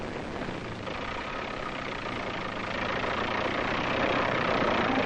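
A tracked military tractor, dug into a hole of its own making during Vietnam-era construction work, runs with a steady, loud, continuous engine drone that swells slightly toward the end, with no voices.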